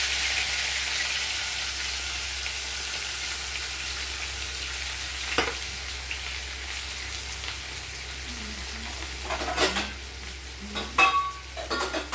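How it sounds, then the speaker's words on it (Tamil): Fennel seeds and onion frying in a pan, with a soft, steady sizzle running throughout and a few sharper scrapes and clinks of stirring near the end. "இதெல்லாம் பொரிஞ்சிருச்சு இப்போ வெங்காயம் போடலாம்"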